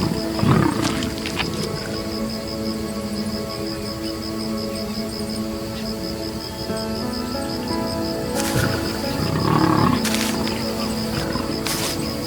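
Lioness roaring on the African savannah, deep repeated roars rising near the start and again around the last few seconds, over a steady wild ambience with faint bird calls.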